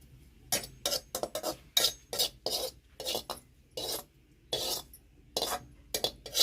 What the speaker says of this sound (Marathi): खोबरं भाजलंय मी काढून घेते